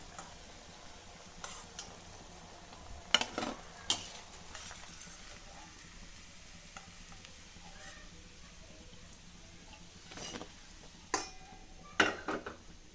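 Vadas deep frying in oil on a low flame, giving a faint, steady bubbling sizzle broken by occasional sharp clinks and clatters of a utensil against the pan.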